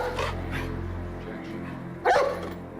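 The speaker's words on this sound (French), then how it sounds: "elle s'est soudainement mise à aboyer." A dog named Luna lets out a few sharp barks, close and fairly loud, with one stronger bark near the end over low background noise.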